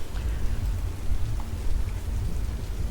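Rain weather effect in Old School RuneScape, a loud, dense and continuous downpour hiss with a deep rumbling low end, heard alone without talk.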